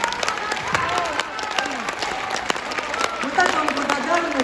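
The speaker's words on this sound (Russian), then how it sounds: "Ваши аплодисменты." Concert hall audience applauding a youth variety ensemble, the clapping steady and fairly close with some cheering mixed in and a few pitched voices or tones rising over it.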